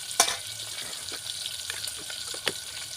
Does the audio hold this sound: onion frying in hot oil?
yes